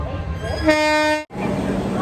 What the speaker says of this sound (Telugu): ఫైనల్లీ ట్రైన్ అయితే వచ్చేసింది